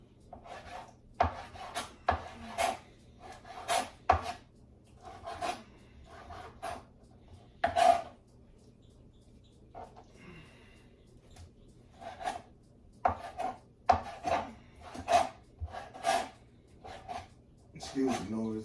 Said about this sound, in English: Excuse the noise of the cutting board.